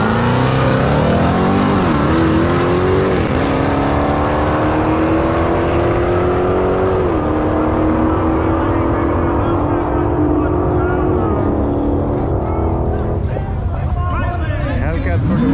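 Dodge Challenger Drag Pack and a Hellcat roar down a quarter-mile drag strip, their engines loud and continuous as they climb through gears in several rising sweeps with brief shift dips, close to the listener and never fading.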